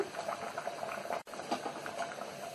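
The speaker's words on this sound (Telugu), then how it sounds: "ఒక బాయిల్ వచ్చేంత వరకు హై ఫ్లేమ్లో ఉడికించుకోవాలి" Chicken bagara rice boils on a high flame in a pot, giving a steady, soft bubbling and simmering that runs continuously at close range without any voices.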